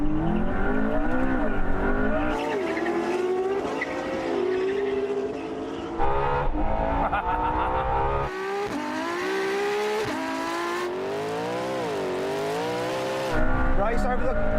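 Cars accelerating hard in a quarter-mile roll race against a Porsche, engine tones rising and falling through gear changes, loud and close throughout, with a voice talking over it.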